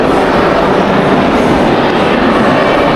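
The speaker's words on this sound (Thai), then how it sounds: "เดี๋ยวไปขึ้นรถไฟกัน ตอนนี้ก็เข้ามาอยู่ในสถานีบรัสเซลเซ็นทรัลเลยนะครับ" Train noise inside Brussels Central station, a steady loud rumble of rolling rail cars filling the whole stretch with no speech.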